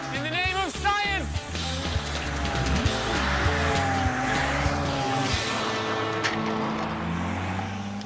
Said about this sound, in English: locks the steering wheel in place and opens the throttle